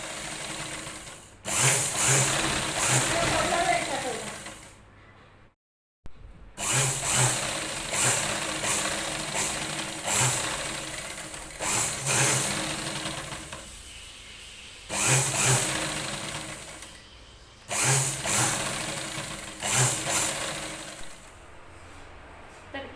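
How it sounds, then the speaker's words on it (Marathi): A sewing machine top-stitches along a zip on a homemade sling bag, running in several close, steady bursts of mechanical whirring separated by short stops, with a near-silent gap partway through. "इथून सुद्धा अशा प्रकारे टॉप स्टिच करून घ्यायची"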